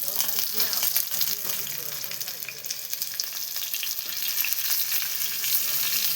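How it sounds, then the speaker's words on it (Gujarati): Fish frying loudly in a pan as it is flipped, a dense continuous crackling sizzle with stirring scrapes and sputters, close and steady throughout. "મિત્રો, ચાલો હવે આપણે મચ્છીને ફેરવી દઈએ પાછી।"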